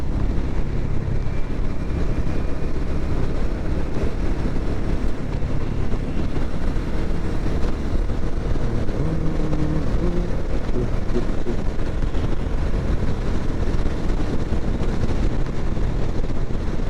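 A motorbike ridden fast on a road gives a steady, loud engine drone buried in heavy rushing wind noise, continuous and unbroken for the whole stretch.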